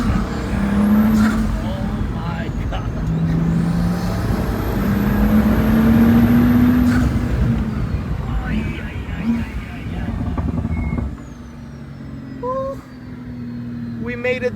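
Pagani Huayra RBC supercar engine on a test drive with a factory driver, a loud, sustained interior drone rising and falling through gear changes, with voices talking over it.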